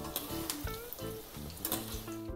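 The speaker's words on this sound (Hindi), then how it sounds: "हमें इसे हल्का गुलाबी होने तक करीब 1 से 2 मिनट फ्राई करना है।" Rawa potato rolls fry in hot oil with a continuous close sizzle and soft bubbling, with a faint tonal background underneath.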